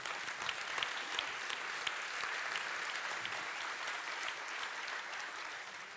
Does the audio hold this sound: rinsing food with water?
no